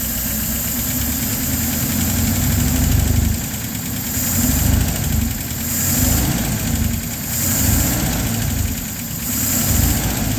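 A LaSalle car engine idles steadily with the choke partly closed, a rough, low rumble and slight periodic surging, close and loud, no voices.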